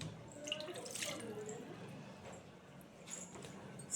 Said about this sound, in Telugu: దీంట్లో ఒక గ్లాస్ వాటర్ పోసాను